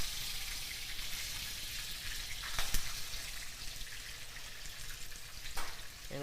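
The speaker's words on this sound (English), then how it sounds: "So we're going to go ahead and flip this salmon." Salmon frying in a pan, a steady close sizzle with a couple of brief louder crackles as the fillet is turned over, no talking.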